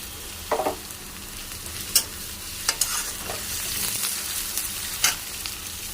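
Chopped green chili and ginger fry in a pan for a cabbage dish, giving a soft steady sizzle broken by a few sharp stirring scrapes, moderately close and with no talking.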